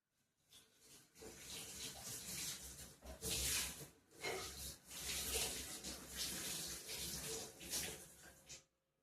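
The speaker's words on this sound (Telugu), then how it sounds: "మన దొరికేది స్టీల్ స్క్రబ్బర్, దాంతో క్లీన్ చేస్తున్నాం" A new dosa pan is scrubbed with a steel scrubber and a little liquid soap, producing harsh, wet, rasping strokes in repeated bursts that run loud and close for about nine seconds, with no talking.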